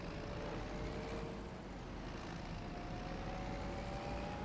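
Steady tractor engine drone in Farming Simulator 25, a continuous mid-loud hum with a faint rising tonal whine, no talking over it.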